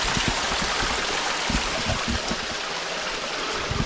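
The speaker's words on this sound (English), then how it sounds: "Basically fell over and turned this little branch into a waterfall, kind of dammed it up." Small waterfall of stream water spilling over a fallen-tree dam, a steady close rushing and gurgling wash with no voices.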